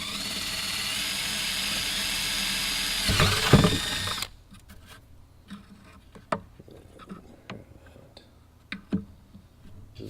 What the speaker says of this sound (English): You got to drill 2 spots over here to keep it held down.